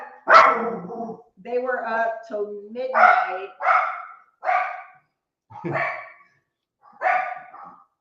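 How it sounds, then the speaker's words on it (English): A pet dog barks in short, loud bursts spaced across the stretch, close by, mixed with people talking indoors. "Shh, that's our dog."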